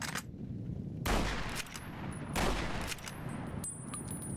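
Gunshots in the Fallout New Vegas video game: two loud, sharp bursts about a second apart, each ringing out briefly and set against a steady background.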